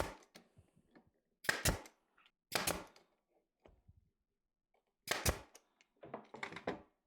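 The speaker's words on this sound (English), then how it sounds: "Nail these guys together." Hammer blows drive nails into wooden bracing pieces, sharp thunks in spaced clusters of a few strikes each, with quiet gaps and light handling sounds between.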